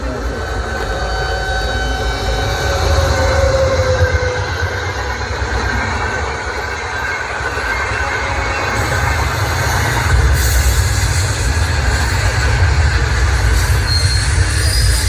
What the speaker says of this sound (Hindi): 12841 Shalimar Chennai central superfast express will arrive shortly on platform number 3.